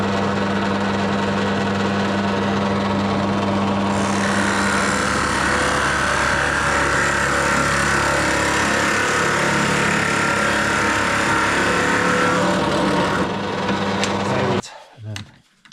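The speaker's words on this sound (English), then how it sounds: "just putting a Forstner bit into the drill press so we can put a little tenon" A drill press fitted with a Forstner bit bores a tenon hole into a scrap pine 2x4 bowl blank. The motor gives a steady, loud, close drone that shifts in tone partway through, then stops abruptly at the end.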